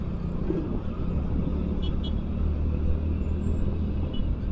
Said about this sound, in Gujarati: સામેવાળી રોડ ઉપર ટ્રાફિક જોવા કેટલું છે.